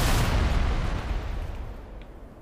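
In a video game, barrels go off in a booming explosion that starts loud and rumbles away over about two seconds, with no talking over it.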